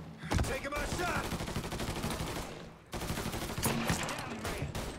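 Gunfire in the video game Mafia 3 sounds as dense bursts of rapid shots with a brief pause in the middle, mixed with game sounds and faint talk.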